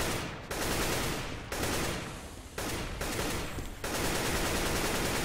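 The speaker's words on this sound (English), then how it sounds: "on the wallbang coming out from Skirk, actually tagging up Zende" Rapid gunfire in a Counter-Strike match, including a wallbang shot through a wall, sounding as several dense bursts of loud shots that run almost continuously with brief gaps.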